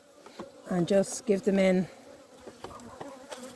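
Honey bees buzzing around a hive in an Irish apiary while a super is being added, with bursts of close, loud wing drone passing by and a person speaking briefly nearby.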